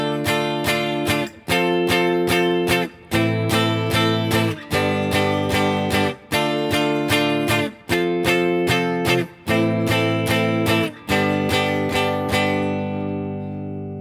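Guitar strums the chord progression of a song in even, repeated bursts with short gaps between them, clear and close, and the last chord rings out.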